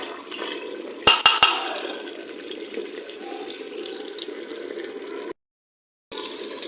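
Yogurt is poured into a cooking pot for a brinjal and bottle gourd handi, a soft wet gushing pour after three sharp clicks near the start, close by, cutting briefly to silence near the end.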